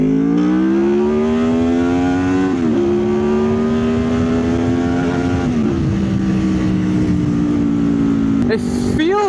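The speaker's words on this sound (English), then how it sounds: "Right, so let's do some acceleration." A Honda VFR VTEC motorcycle accelerating hard in first gear, its close, loud engine note rising steadily in pitch with brief dips between pulls as the revs climb and hold high.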